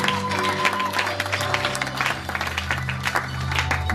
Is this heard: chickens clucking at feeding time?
no